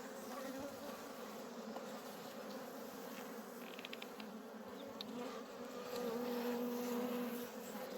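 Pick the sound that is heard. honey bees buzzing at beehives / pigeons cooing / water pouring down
honey bees buzzing at beehives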